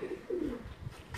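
A pigeon coos at close range, two soft, low throaty coos in quick succession, with no talk.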